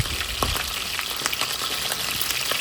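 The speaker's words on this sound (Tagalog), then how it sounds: "antayin natin yung maprito ang kabilang parte ng isda" A salmon head sizzles steadily in hot oil in a pan, its fish side frying in a dense, continuous crackle with small pops scattered throughout, close and fairly loud, with no talking.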